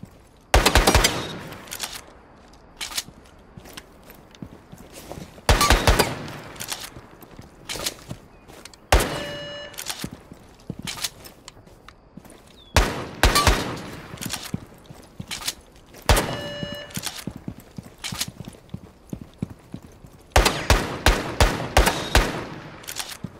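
Gunfire from the video game Rainbow Six Siege comes in several sharp bursts of shots separated by quieter gaps, with brief metallic clicks and reload sounds between, and no talking.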